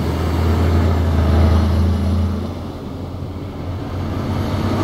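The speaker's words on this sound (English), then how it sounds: "you can hear the cars coming past me" Road traffic rushes past a haulage truck, heard from the cab as a broad whooshing roar with a low engine hum that fades partway through, then swells again as more vehicles go by.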